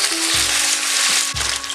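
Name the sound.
chicken frying in oil for Kung Pao chicken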